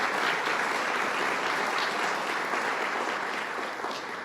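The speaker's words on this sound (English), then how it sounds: "let's give them a round of applause" Sustained applause from an audience greeting two county executives at a New York State budget event on Long Island, steady and dense throughout with no speech over it.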